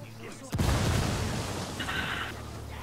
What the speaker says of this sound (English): The door literally opened before I saw an explosion. Huh. It went boom.